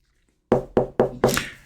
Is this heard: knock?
yes